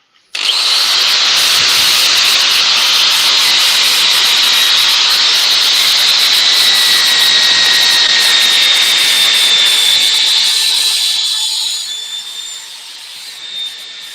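During a woodturning session, a power tool in hand sets up a loud, steady high-pitched whine with a rough abrasive grind. It runs continuously for about eleven seconds, then winds down and fades.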